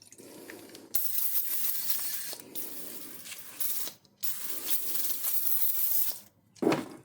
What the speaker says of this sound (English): So let's go ahead and lay some of this down and see how PB Blaster does.